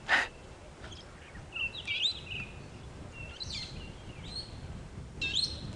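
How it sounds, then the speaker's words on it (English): Brown-headed parrots pass overhead at sunrise on a safari drive, giving repeated sharp, squeaky chirps in scattered bursts over a soft background hiss. "Can hear some brown-headed parrots flying over her head."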